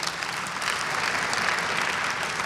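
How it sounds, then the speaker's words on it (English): An audience at the 2019 inauguration of State Board of Education members, statehood representatives and ANC commissioners breaks into a steady, dense round of applause. It holds at an even level throughout, with no speech over it. "That deserves a round of applause."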